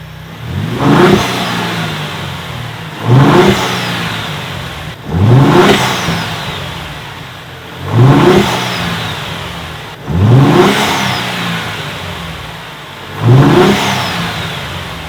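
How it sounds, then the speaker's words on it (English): A Ford F-150 Raptor fitted with an aFe Stage 2 cold air intake revs five times, each loud, close rev rising sharply, then falling back to idle, about two to three seconds apart. "How does this AFE Stage 2 Super Raptor air intake sound? Let's start it up."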